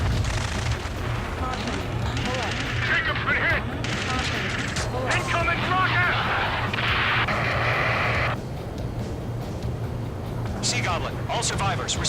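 Heavy gunfire and artillery in the Ace Combat 7 video game, with repeated bursts and booming blasts layered over shouted radio chatter throughout.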